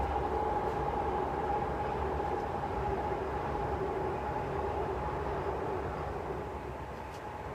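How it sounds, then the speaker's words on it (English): A train passes outside during a home yoga lesson, heard as a steady, fairly faint low rumble with a faint hum that holds for several seconds and eases slightly near the end, with no talking. "Just going to let that train pass."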